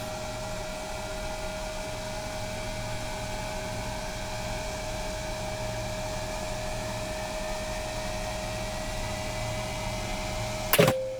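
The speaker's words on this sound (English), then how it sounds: "Airplane is coming to life." MD-80 airliner engines starting up in the X-Plane 11 flight simulator: a steady, loud jet whine and roar with sustained tones, holding level throughout and topped by a sharp click near the end.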